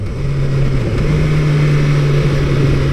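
BMW S1000RR motorcycle engine pulling steadily in fifth gear at around 5,000 rpm, a loud continuous drone with a near-constant pitch and a slight rise midway, heard alone with no talking.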